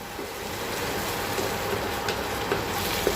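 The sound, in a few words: frying yogurt, poppy seed and cashew paste in oil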